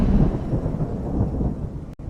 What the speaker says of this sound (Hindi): एक तेज बिजली की आवाज हुई